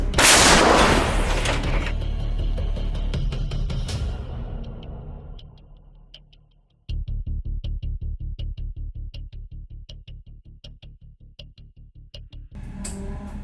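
A loud blast from a French CAESAR 155 mm self-propelled artillery gun opens the clip and fades slowly, then a long run of rapid, evenly spaced mechanical clanks and thuds follows, close and steady.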